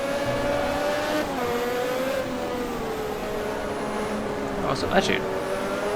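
A 1988 Lotus Formula 1 car in the Automobilista racing game, its engine holding a steady high whine that shifts pitch as it changes gear, with a brief squeal near the end and someone talking over it.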